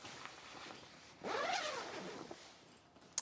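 A zipper drawn along the side of a large window panel on a 270 awning room wall, one steady pull of about a second, close and clear over quiet background.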